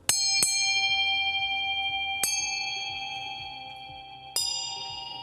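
A small bell is struck three times during a sound yoga session, each bright ring sustaining and slowly fading before the next strike, close and clear.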